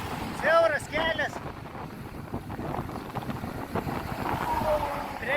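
Headwind roars and buffets against the microphone while travelling along a narrow road, a steady low rushing that opens with a few brief tonal chirps.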